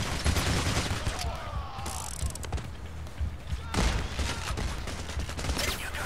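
Gunfire in the heist shooter Payday The Heist: dense overlapping bursts of shots and impacts, loud and continuous with rattling automatic fire, under occasional game noise.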